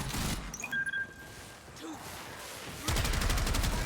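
Gunfire in the video game Warframe starts as a heavy blast with recoil. After a quieter stretch of game effects and tones comes a dense, rapid volley near the end.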